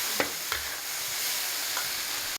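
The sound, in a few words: stir-frying dish in wok over wood fire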